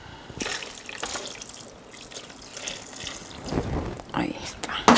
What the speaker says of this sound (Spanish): Le voy a poner un poco de agua de la mismo caldo de los jitomates.